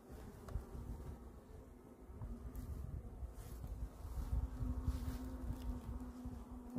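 Honeybees buzz steadily inside an opened hive during a February inspection, a low, continuous droning hum held close and fairly faint, swelling slightly toward the end with some wind and handling noise mixed in.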